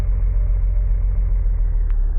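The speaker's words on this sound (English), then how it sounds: "There's a car on the side of the road." A car engine idles by the roadside in a horror video game, a steady low rumble that holds even and unbroken throughout, with a brief faint click near the end.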